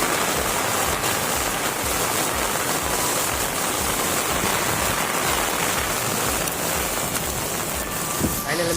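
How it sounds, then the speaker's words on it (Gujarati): Heavy rain pours down steadily in Surat, a dense continuous hiss of drops drumming on surfaces close by, with no speech over it. "સુરતમાં ભાઈ વરસાદ ચાલુ થઈ ગયો છે."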